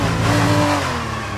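A 2018 Trident Formula 2 car at Paul Ricard in a racing video game gives a loud, steady engine whine that eases slightly in pitch, with no voices.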